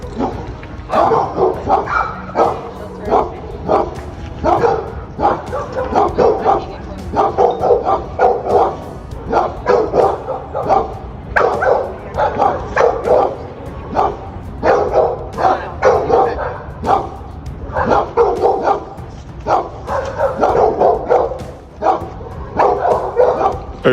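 Dogs bark at a doghouse in rapid, loud bursts, a continuous run of close barks and yips with brief pauses and a few whimpers between them.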